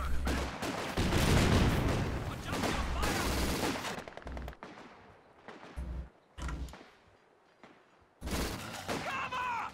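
Small arms fire crackles through the Company of Heroes 2 battle: dense rapid bursts and volleys in the first four seconds, then sparser scattered shots with pauses, and a final burst near the end.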